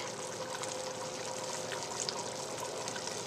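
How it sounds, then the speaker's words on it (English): Broth ladled into a pot of Japanese curry, a steady liquid pouring and trickling sound that runs continuously at moderate level throughout. "just a few ladles of broth"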